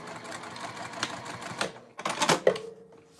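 A sewing machine top stitching a lined bag runs in short bursts, its rapid mechanical chatter starting and stopping close by, with one louder run near the end.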